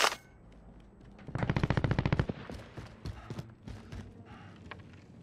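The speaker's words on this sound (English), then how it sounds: "I hear him shooting" Rapid bursts of gunfire in Call of Duty: Warzone crackle in a fast automatic volley, followed by scattered single shots and thuds, with a sharp crack at the start.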